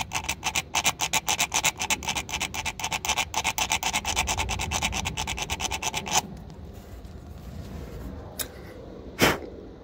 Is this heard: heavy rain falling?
no